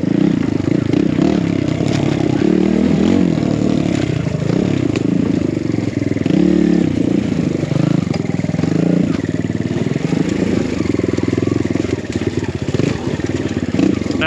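A BBR KLX170 dirt bike rides a snowy enduro trail, its engine droning steadily and loudly up close throughout, with rising and falling revs and some clattering from the ride.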